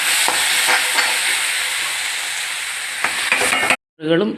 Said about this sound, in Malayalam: ഇനി അതിനകത്തേക്ക് നമുക്ക് തക്കാളിയും പച്ചമുളകും ഇട്ട് കൊടുക്കാം